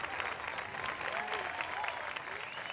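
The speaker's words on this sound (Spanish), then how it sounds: "Así que les pido fuerte el aplauso para Carlos Enrique Almirante" Audience applause at a drag queen gala in Telde, a steady wash of clapping from a large crowd with faint voices and whoops carrying over it.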